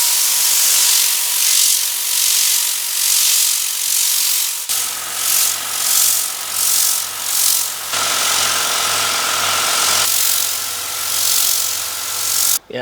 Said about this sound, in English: I'm gonna blow it all dry with air. In this case there's the Tornado basic air dry gun is here on top of the hose.